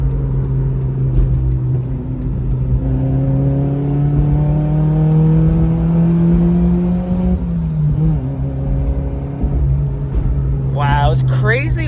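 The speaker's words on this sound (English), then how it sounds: "You ready for this Daihatsu VTEC?" Daihatsu Terios with a muffler delete revving loudly up and down, a steady engine drone with rising and falling pitch through most of the stretch, fairly close, no talk over it.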